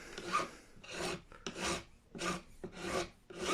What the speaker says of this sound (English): You see me crown frets a million times, nothing to it.